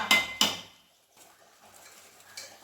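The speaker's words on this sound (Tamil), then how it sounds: "தேங்காய் மட்டும் உடச்சி தரீங்களா?" A coconut is cracked open in a home kitchen while chicken kulambu is being made, giving two sharp, loud knocks about a third of a second apart, followed by quiet room sound.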